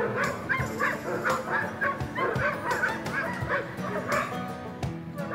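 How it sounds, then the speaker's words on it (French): Several dogs at a dog shelter bark and yip continuously, overlapping one another with sharp repeated barks and some whimpering, a busy kennel chorus at moderate distance. "Je suis au refuge pour chiens aujourd'hui."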